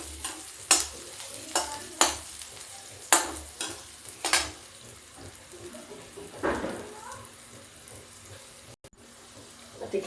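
Onions and green chillies frying in a pan give a steady sizzle, broken by a series of sharp, close stirring knocks and scrapes about once a second, fading to quieter frying toward the end.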